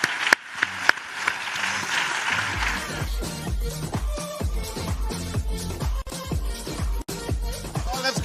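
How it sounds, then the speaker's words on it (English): Audience applause at a forum honoring panelists, a broad wash of clapping for the first few seconds that gives way to steady rhythmic music with a strong beat. "Give them a round of applause."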